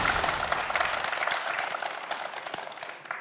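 Steady applause from a studio audience on a televised student quiz show, dense clapping that fades gradually over a few seconds with no talk over it.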